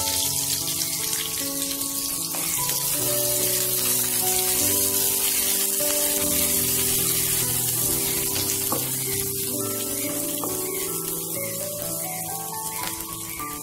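Shallots, green chili and curry leaves fry in hot oil for a Tamil pulikulambu, a continuous close crackling sizzle with fine popping spatter throughout, no talking.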